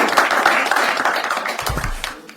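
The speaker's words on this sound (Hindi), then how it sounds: "जोर तालियां हो जाए." Comedy club audience at a stand-up show claps for a performer, sharp individual claps strongest at first and then thinning out, with a low thump and a brief murmur near the end.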